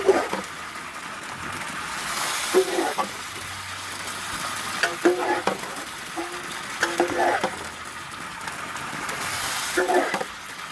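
Buffalo offal frying in a pan over high heat, a steady sizzle with repeated stirring and scraping clatters throughout, close and fairly loud.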